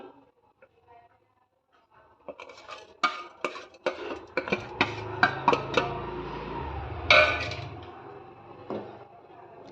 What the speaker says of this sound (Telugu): అటుకులు పాలల్లో వేసి ఇలా బాగా మిక్స్ చేసుకోవాలి.